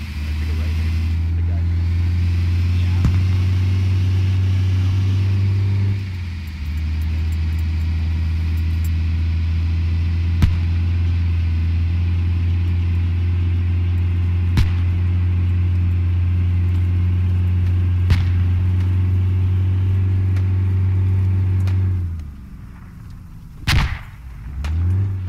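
A military vehicle is driven in the video game Squad, its engine holding a loud, steady low drone for most of the span with a brief dip and a few sharp knocks, then cutting out near the end while players talk over it.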